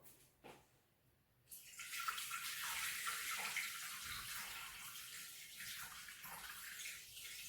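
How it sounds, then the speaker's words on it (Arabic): Tap water runs steadily into a Thermomix bowl, 500 grams in all: a short drip, then a continuous splashing pour that starts about a second and a half in and keeps up close by until the end. "غادي نخرجوا الميزان وغادي نديرو 500 غرام ديال الماء"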